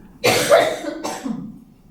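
Two harsh coughs close up, the first longer and louder, the second shorter, then a brief low throat sound trailing off.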